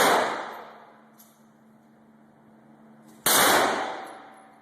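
Gunshots at a shooting range, two sharp, loud cracks about three seconds apart, each followed by a long ringing decay in an open space.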